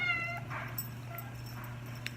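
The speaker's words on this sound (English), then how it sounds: "sorry, I have a cat here." A pet cat indoors lets out faint, thin meows, a couple of brief high cries over a steady low hum, fairly distant and quiet.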